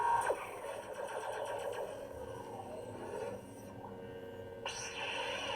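A lightsaber ignition sound played from the SNv4 iPhone app: a buzzing, humming blade that surges on and holds a steady electric drone, with a brief drop and a second swell near the end.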